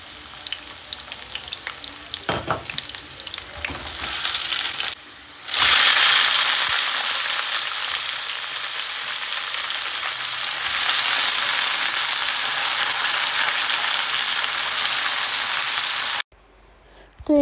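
Chopped garlic frying in hot oil in a pan, with a loud, continuous sizzle and crackle that surges briefly, then holds steady before cutting off abruptly.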